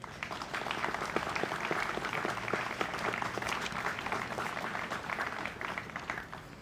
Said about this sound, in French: Je pense qu'on peut chaleureusement les applaudir.